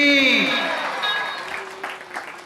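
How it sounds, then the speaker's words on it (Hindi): Applause from an audience at a Shiv Vivah religious gathering in a village, rising loudly at first and thinning out over a couple of seconds beneath a speaking voice. "जोरदार ताली होनी चाहिए"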